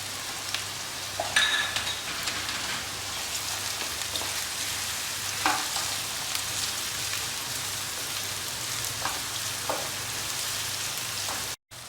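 Onions frying in a pan for Punjabi chicken rara curry, a steady dense sizzle with occasional faint clinks, close and continuous without speech.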